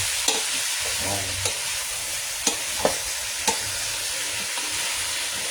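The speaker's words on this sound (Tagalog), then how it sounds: "haluin na natin siya para makawin yung pag-spread out yung mantika at saka yung ingredients na nilagay natin, yung sibuyas at saka yung bawang" Onion and garlic sizzle in hot oil in a pan for a crab and shrimp coconut-milk dish, a constant frying hiss with a few sharp scraping stir strokes and clicks over it, close, no talking.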